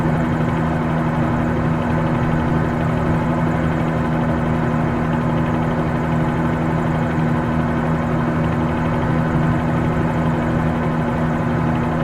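Helicopter flying over Las Vegas, Hoover Dam and Boulder City in Microsoft Flight Simulator 2020, a loud, steady, droning rotor and engine hum holding constant with no break and no voices.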